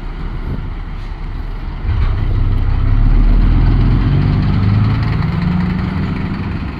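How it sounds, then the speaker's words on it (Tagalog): A big truck's diesel engine rumbles close by, its deep drone swelling louder and rising in pitch as it revs and passes, heavy and continuous. "Laki ng truck eh. Grabe eh."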